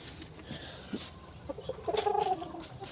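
Chickens clucking softly close by, a few scattered low clucks building into a short run of calls over faint background noise.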